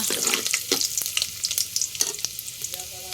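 Ginger hits hot oil in a pan for ginisang alamang, shrimp paste, with loud close frying and sharp spattering pops plus stirring scrapes through a few seconds without speech.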